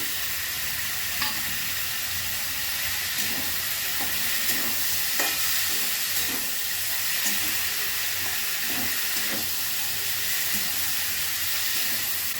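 Prawns frying in a pan for a kachur loti dish, giving a steady close sizzle with scattered stirring scrapes and clicks throughout, with no talking.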